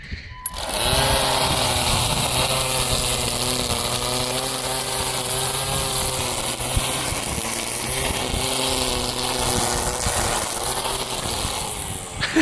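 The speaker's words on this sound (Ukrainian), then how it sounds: "будемо косити електричним тримером" An AL-KO GT 1825 18 V cordless string trimmer cutting grass gives a steady, close electric motor whine with a whirring line, running continuously throughout without talk.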